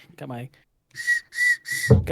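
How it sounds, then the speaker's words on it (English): A small Wienermobile weenie whistle is blown in three short, shrill, evenly spaced toots, with a voice just before and just after. "Got my little weenie whistle."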